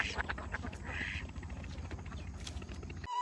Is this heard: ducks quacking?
yes